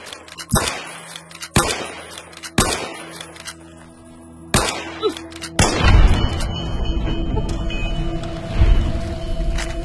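Gunfire in the video game Fallout: New Vegas, several loud sharp shots spaced about a second apart, followed by a heavier burst of booming fire and a rumbling tail, close and dominant.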